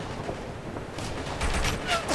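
Heavy gunfire in the military shooter game Operation Flashpoint: Red River, a dense burst of shots rising in loudness toward the end over a steady rumbling background.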